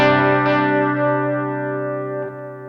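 An electric guitar played through an effects pedal set to a tape-style tap-tempo delay with drift modulation; a loud sustained chord rings out and slowly decays with a faint warbling, chorus-like wobble and no voices.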